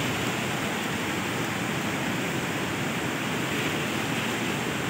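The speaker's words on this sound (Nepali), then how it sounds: "यता हेर झरना उता हेर झरना बिचमा खोला" A waterfall and a flowing mountain river make a dense, constant rush of water, loud and unbroken from start to finish with no voices.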